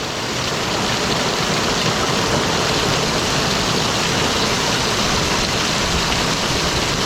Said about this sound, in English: here comes the large size hail